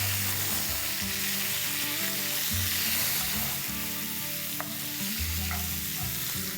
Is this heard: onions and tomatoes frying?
yes